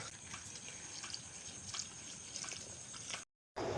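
Salty brine drained from salted jackfruit pieces poured into a container, a steady soft trickling splash that runs continuously, then cuts off briefly near the end.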